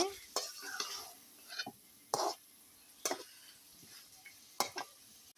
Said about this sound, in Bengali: তো মাংসটা আমি কষিয়ে নিচ্ছি ভালোভাবে।